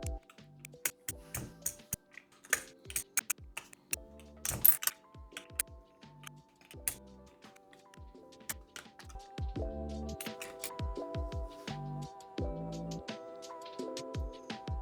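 Mechanical keystrokes on a Nada 65 Panda keyboard with pre-lubed plate-mounted stabilizers, crisp clacks in irregular bursts that build into faster, denser typing with occasional deeper spacebar thocks.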